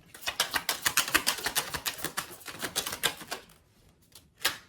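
Tarot cards being shuffled, a rapid run of crisp riffling flicks for several seconds, then a pause and one final snap, close and alone.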